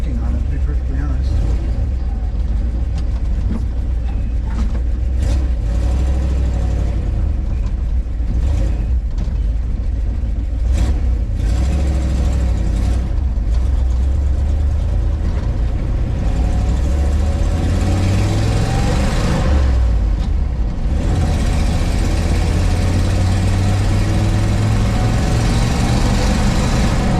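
A 1964 Ford F250 4x4 truck with a 292 Y Block engine driving in two-wheel drive, giving a loud, continuous engine drone with shifting pitch as it speeds up, and someone talking over it.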